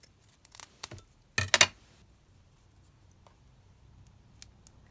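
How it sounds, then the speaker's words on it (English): Scissors snip a small piece of paper for a junk journal, a few short close cuts clustered near the start, the loudest pair in quick succession, followed by quiet faint rustling. "I'm just going to just cut a little piece of this off"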